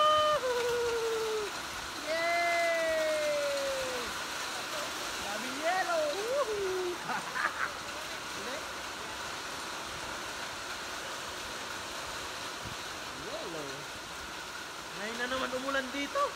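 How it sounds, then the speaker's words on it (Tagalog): Hail and heavy rain pour down steadily in Al Dayer, Saudi Arabia, a dense hiss throughout, with people talking and exclaiming excitedly over it. "Umulan dito."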